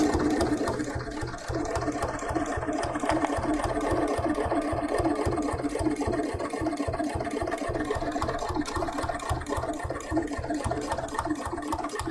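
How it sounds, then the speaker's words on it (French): A sewing machine sews a buttonhole by itself on a coat project, its needle hammering in a fast, even mechanical rhythm with a steady motor whir that runs without a break. "ma machine est complètement en automatique, je fais rien à la pédale"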